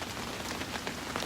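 Rain falls steadily on an outdoor open-air market area during a rainy memorial gathering, a faint, even hiss of drops with no voices.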